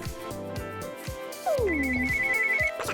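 A cartoonish phone ringtone sounds in the Avatar World (Toca Life) game, a bright repeating electronic tone over light background game music, clear and close with no talking.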